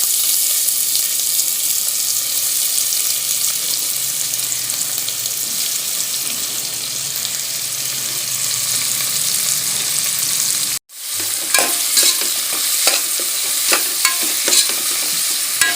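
Sliced large onions sauté in a pan with cinnamon, cardamom and cloves for a beef gravy, giving a steady, close sizzle with stirring scrapes. The sound cuts out for an instant, then resumes with sharper clicks of a utensil.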